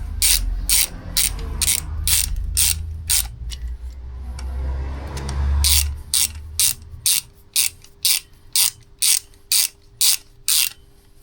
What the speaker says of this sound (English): Tighten it back up with the T30.